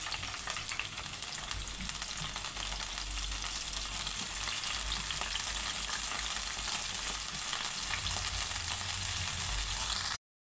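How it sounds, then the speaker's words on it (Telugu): Finely chopped onions sizzling in hot oil with cloves in a pan for an eggplant and tomato curry, a steady, dense fry crackle throughout, close and moderately loud with no talking. "సన్నగా తరుముకున్న ఆనియన్స్ వేసుకోవాలి."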